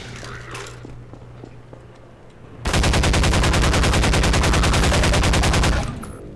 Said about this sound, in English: How were you able to shoot me through that barricade?